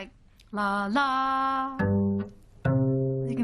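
A musical fourth played as the opening of Here Comes the Bride: a tonal note rising to a held higher note, then the two-note pattern repeated, with bright sustained harmonics and no talking.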